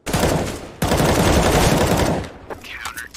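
Video game gunfire in two long, loud sustained bursts, the second cutting off abruptly before quieter game sounds follow.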